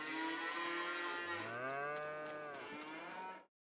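Cattle in Farming Simulator 22 mooing, two long overlapping moos, close and clear with no talk, ending abruptly.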